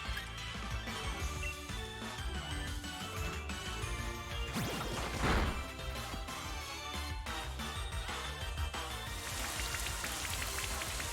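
Rain falling in the video game Pokémon Shield, a continuous pattering wash of drops under game music, with a louder splash or crash near the middle.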